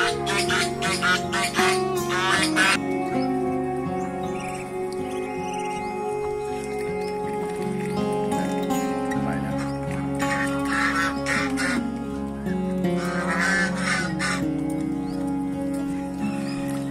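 A flock of ducks and geese quacks continuously nearby at feeding time, with bursts of louder squawking and honking over a constant murmur of birds.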